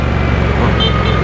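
A vehicle horn blares steadily over traffic noise, one sustained toot close by with engine rumble underneath.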